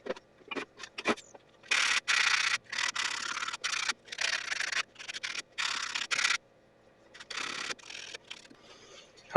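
Hand sanding and cleaning a part of a 1933 Maytag Model 92 washing machine: short bursts of abrasive rubbing and scraping, stopping and starting irregularly, close and fairly loud.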